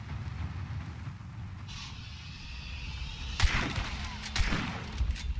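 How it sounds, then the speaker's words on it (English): Distant gunfire in the video game Hunt: Showdown sounds as a few muffled cracks over a steady low rumble of ambient noise, faint and far off. "There's someone else shooting."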